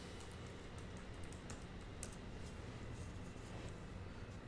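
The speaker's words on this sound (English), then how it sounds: "type in the administrative password" Soft, rapid keystrokes on a computer keyboard enter a password on a Fedora 33 Mate desktop, with a steady run of close clicks over faint background hum.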